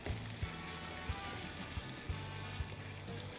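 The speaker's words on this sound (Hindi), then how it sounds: "प्याज आपका भुन चुका है।" Onion, ginger and spices sizzle steadily in oil in a pan while being sautéed for a malai kofta curry, with faint stirring scrapes over a constant frying hiss.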